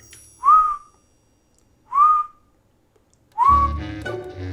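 A voice imitates constant whistling from creatures that sit outside a door, giving three short upward-sliding whistles spaced about a second apart. A low rumble follows the last one.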